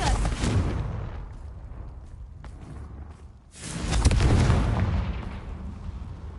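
Confringo blasting spell explosions in Hogwarts Legacy, two deep rumbling fiery bursts a few seconds apart, each swelling loudly and then fading into a low roar.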